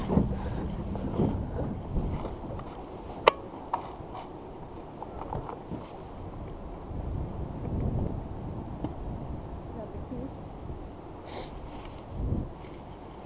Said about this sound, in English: I can't fire up the gas motor in this lake, so I have to use the electric motor